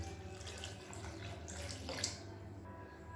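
Water is added to mashed sambar while cooking, a quiet, continuous running-water sound with a faint splash, heard alone.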